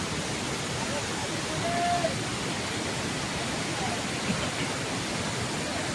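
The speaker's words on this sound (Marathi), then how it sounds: "बघा पूर्ण रस्त्यावर पाणी आहे" A dense, steady rush of rainwater flowing across a village road during a cloudburst, continuous and unchanging throughout.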